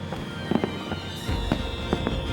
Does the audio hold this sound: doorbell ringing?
no